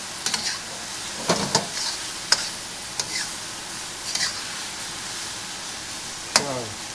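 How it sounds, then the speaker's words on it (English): Keto shrimp fried rice sizzles steadily in a pan, a constant close hiss broken by occasional scraping stirs and light clinks of the utensil. "I'll cook all this now for a few more minutes, just to make sure that them shrimp are cooked through"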